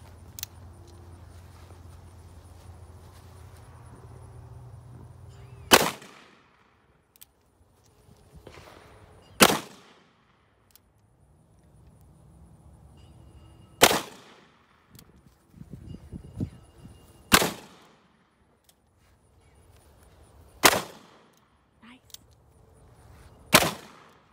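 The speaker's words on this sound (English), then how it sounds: "357 Magnum, second time firing, first time firing one-handed." A .357 Magnum revolver fired one-handed, six sharp loud reports spaced several seconds apart, each a sudden crack with a short decay, with faint background noise and a brief rustle between shots.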